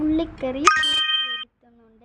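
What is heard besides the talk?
phone message notification sound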